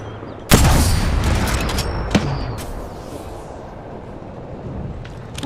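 Gunfire in the video game Apex Legends: a sharp loud shot opens, then a few scattered cracks and a fading reverberant rumble of a firefight.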